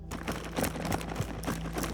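Unprocessed sound effect of soldiers running: a quick, continuous patter of many footfalls, close and fairly quiet, with no talk.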